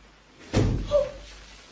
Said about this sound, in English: That's Carl's door closed